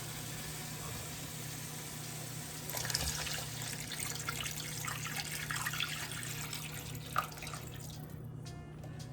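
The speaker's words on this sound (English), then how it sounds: "I think this is about 4 cups of water, so I'm going to go ahead and add that" About four cups of water are poured into a pot of smoked neck bones, a soft trickling stream beginning a few seconds in and running on quietly under a steady background hum.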